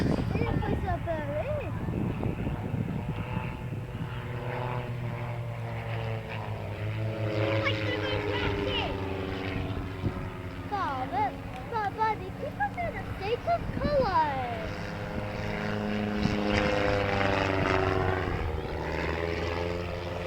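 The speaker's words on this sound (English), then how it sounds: "It's an extremely light aircraft, a huge amount of composites involved in its construction." A light composite aerobatic propeller plane drones overhead at an airshow, its engine pitch rising and falling as it manoeuvres, with a commentator talking over it throughout.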